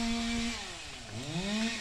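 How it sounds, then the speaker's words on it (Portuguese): A distant chainsaw cuts through wood out near a rural plot, its engine whining at a steady pitch that dips and rises again as the blade bites, faint against open outdoor air. "Rapaz, está cortando de motosserra ali."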